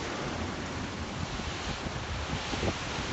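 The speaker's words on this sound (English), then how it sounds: "Et la mer est en train de monter sur cette plateforme sur laquelle est bâti le kiosque" Seawater surging over a kiosk platform in Martinique as Hurricane Maria strikes, heard as a steady, loud roar of surf and churning waves mixed with heavy wind buffeting the microphone, with no voices.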